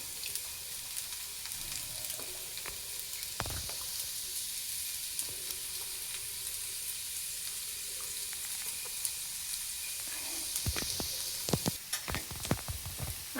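Masala okra (bhendi) sizzling steadily in a pan, a continuous close frying hiss with scraping clicks of stirring that grow busier toward the end, no talk.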